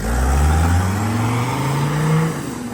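A Mercedes car with a diesel engine drives close by, its engine note climbing steadily under load before easing off, loud and continuous with no talking.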